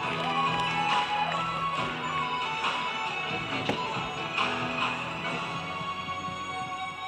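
An audience at a stage tribute performance claps, a moderately loud, sustained patter of hands with music playing underneath, and no speech.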